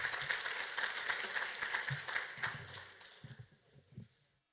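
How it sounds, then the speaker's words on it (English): Audience applause at an aging fundraiser event, a crowd clapping steadily that thins and trails off into a few scattered claps and low voices before fading out. "How about another round of applause for Danny Britt?"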